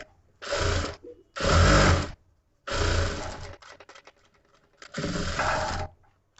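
Sewing machine stitching a katori blouse, running in four separate bursts of steady whirring, each lasting about a second, with short quiet pauses between them.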